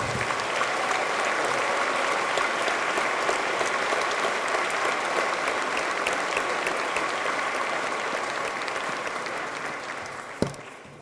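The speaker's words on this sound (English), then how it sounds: "And we could have one big round of applause for all." An audience at an academic awards ceremony applauds scholarship recipients in a long, dense round of clapping that holds steady before tapering, with one sharp knock near the end.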